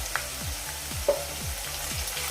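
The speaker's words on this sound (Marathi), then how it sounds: "कांदा फ्राय होईपर्यंत आपण एक दोन मिनटं असं करतोया" Finely chopped medium onion frying in a pan over a medium flame, with a low steady sizzle and a few faint stirring taps close by.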